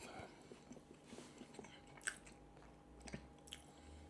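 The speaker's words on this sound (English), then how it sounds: "Hopefully you've not heard me chewing again" Someone chews Sunday dinner, a streaky black pudding bun, close to the mic, with soft wet bites and crunches repeating through a quiet room, plus one sharper click midway and a faint steady hum underneath.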